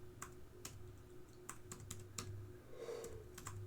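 Keystrokes on a computer keyboard, about a dozen crisp clicks at an uneven pace, close and moderately loud, with a faint low hum beneath and no talking.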